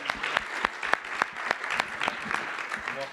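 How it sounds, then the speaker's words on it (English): Sparse audience applause at a 2019 CannaGather New York gathering, with a small group's distinct, fairly even claps ringing out close by for a few seconds. "Let's give him a round of applause."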